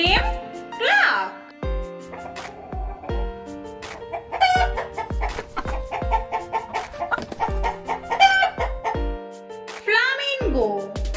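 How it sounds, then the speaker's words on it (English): A chicken clucks in a run of short, repeated calls that rise and fall, fairly close and clear, heard alongside a voice talking. "Chicken sound name cluck."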